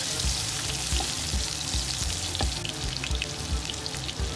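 Onions sautéing in melted butter for a beef and tomato stew, a continuous soft sizzle and crackle of frying with faint stirring taps, nearby and unbroken by speech.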